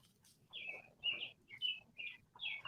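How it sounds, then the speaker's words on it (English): Birds chirp in short, bright bursts, about five quick calls in a row, fairly close with a low background hum. "I hear goddamn birds tweeting"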